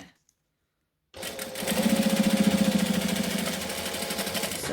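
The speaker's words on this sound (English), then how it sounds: "So I'm just stitching really close to the edge so that we're not going to see it." A sewing machine stitches close to the edge of a fabric wallet, starting after a moment of silence and then running in a fast, even rhythmic chatter, loud and close.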